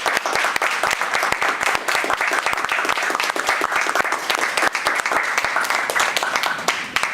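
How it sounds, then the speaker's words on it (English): Loud, close applause from a Toastmasters club meeting, many hands clapping in a busy, crackling burst that stays strong and steady throughout, with individual sharp claps standing out near the front. "I would like to ask everyone to give them an applause"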